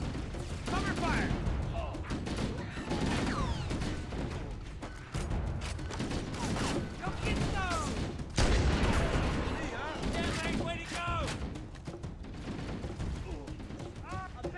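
Rapid bursts of gunfire from Halo CE played on Legendary difficulty, overlapping blasts and explosions under constant battle noise and shouted voices for the whole stretch.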